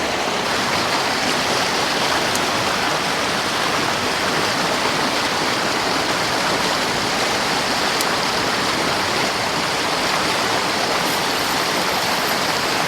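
Water rushes steadily over rocks in a stream while someone wades through it, a loud, dense, unbroken hiss and burble that fills the whole stretch with no talk.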